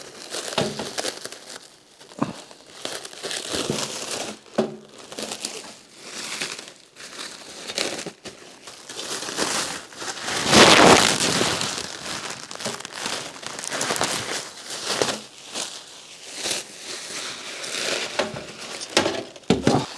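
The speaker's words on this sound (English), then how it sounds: "start unwrapping this Christmas present that I of course did buy myself" Cardboard packaging and paper wrapping around a Christmas present containing a wheel with a built-in engine are torn and crumpled, a steady close-up stream of crinkling and ripping with a louder burst of tearing midway, no voices.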